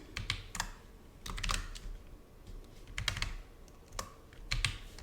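Keys clacking on a computer keyboard in short clustered bursts with pauses between, close and clear, while entering Python code, with no talk.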